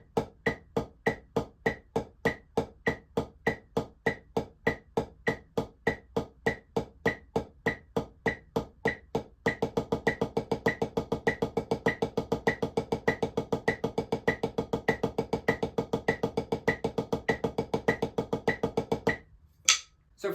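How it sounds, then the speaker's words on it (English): Steady paradiddle strokes on a practice surface in an even eighth-note pattern, then the rhythm doubles to faster, denser sixteenth-note paradiddles before stopping. "So the next exercise is paradiddles, and in this one we're going to play 4 measures of 8th note paradiddles"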